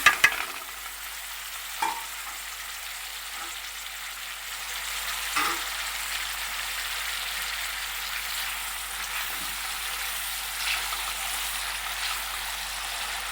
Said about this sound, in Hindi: अब इसी घी और इसी हल्का मसाला भी है, उसमें हम प्याज डाल देंगे।